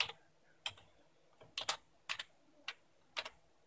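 Keys tapped on a computer keyboard to enter a password at a login screen, in about six short bursts of one to three clicks each, close and crisp over a quiet background.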